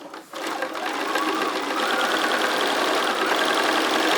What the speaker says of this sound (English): I am going to sew about a 1/2 inch seam all the way around